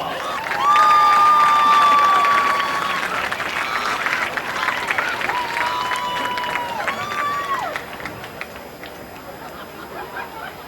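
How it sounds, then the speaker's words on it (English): Crowd applause and cheering for the homecoming queen and court at a 2013 high school football game between Northview and Baldwin County, loud at first and then easing into steady clapping with voices over a PA across the field. "Let's give our entire court a big hand of applause."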